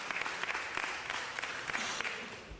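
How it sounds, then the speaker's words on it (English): Applause from a crowd at a city council meeting: a continuous wash of many hands clapping, fairly distant and even, that tapers slightly at the end. "Give them a round of applause."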